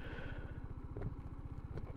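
A Kymco Agility S 125 scooter idles quietly and evenly, its small engine giving a steady low, rapid pulsing throb close by with no voices over it.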